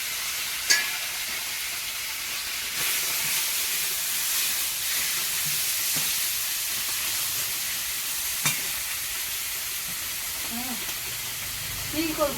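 Rohu fish from a pond frying in hot oil in a home kitchen, a steady broadband sizzle running under the whole stretch with a few sharp clatters of utensils and faint background voices.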